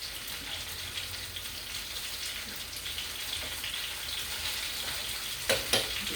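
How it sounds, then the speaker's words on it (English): Fettuccine noodles cooking in a pot with mushrooms for chicken Alfredo, giving a steady soft bubbling sizzle and hiss throughout, with a couple of brief clinks from stirring near the end. "our fettuccine's already cooking down here, as you can see. I'm just going to stir it now."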